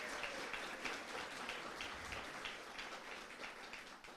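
Applause from a church lecture audience, a dense steady wash of many hands clapping at moderate level throughout, with no talking over it.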